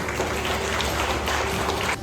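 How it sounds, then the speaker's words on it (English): Steady applause from an audience at a general knowledge quiz competition, continuous clapping for a quiz team that fills the room for about two seconds. "Give a huge round of applause for them."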